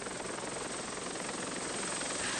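Helicopter ferrying police across the Kosovo border, heard as a steady, loud broadband roar that holds constant for the whole stretch with no voices.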